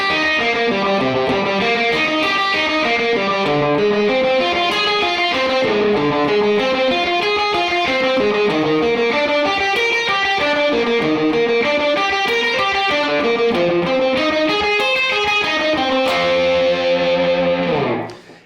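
Electric guitar with an effects-laden, slightly distorted tone picks a steady rock-blues exercise, arpeggiating chords across five strings in a continuous, even stream of notes, loud and close, alone with no talk, ringing out at the end.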